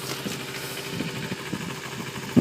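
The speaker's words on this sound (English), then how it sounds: "until you could turn off the choke and it'll idle by itself" A motorcycle engine idles on its own after the choke is turned off, a steady low mid-pitched rumble with slight pulsing throughout, ending in a brief louder knock.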